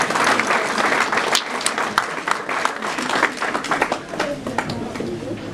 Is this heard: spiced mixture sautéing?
no